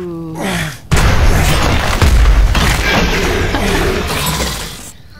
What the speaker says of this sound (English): Let's shoot him with this.